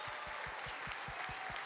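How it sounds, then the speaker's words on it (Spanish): A church audience applauds in a dense, steady wash of clapping, with a faint rhythmic low thumping running underneath. "Un fuerte aplauso para ellos."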